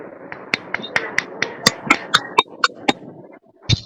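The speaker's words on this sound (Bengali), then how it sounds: "সবাইকে ধন্যবাদ যারা হাততালি দিয়েছেন" Scattered hand claps from an audience in a lecture room on attitude, a few sharp separate claps at an uneven pace, close and fairly loud, thinning out before a final pair near the end.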